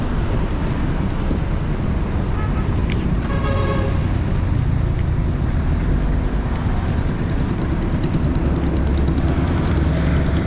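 Road traffic on a congested route in Kawit, heard from inside a bus: a steady engine rumble and road noise fill the whole span, with a brief horn toot near the middle and no talking.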